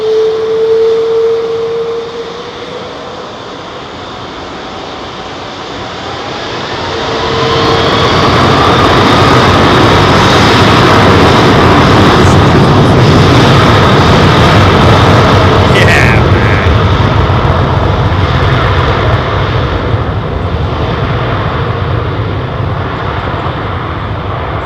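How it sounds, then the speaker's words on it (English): A Boeing 777 jet airliner taking off at London Heathrow, a loud broad engine roar that swells after a quieter start and holds steady, with a voice talking over it. "That 777, man, she is a proper workhorse."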